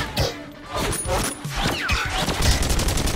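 Gunfire in the VR shooter Robo Recall, a burst of sharp shots and impacts close by, mixed with crashes and whooshing effects over a few seconds.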